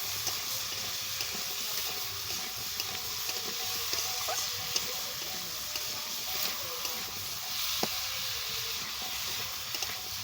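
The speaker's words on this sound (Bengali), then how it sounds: "সমস্ত সবজিগুলোকে ভালো করে লাল লাল করে ভেজে নেব" Vegetables frying in a pan, a steady close sizzle and hiss running without break, with faint occasional clicks and no voices.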